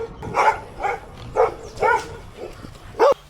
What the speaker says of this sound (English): I'm about to get chased by dogs again.